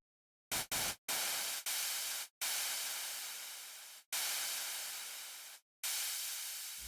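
Synthesized exhaust-like noise effect for a trap track: a quick stutter of short hissing bursts, then longer bursts of white noise that each fade out before cutting off sharply, heard alone.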